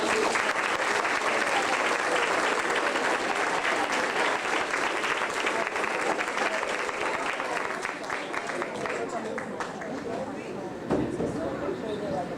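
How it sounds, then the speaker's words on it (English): Applause from an audience at an elementary school honor roll assembly, dense steady clapping that thins slightly toward the end, with some voices in the crowd. "A round of applause, please."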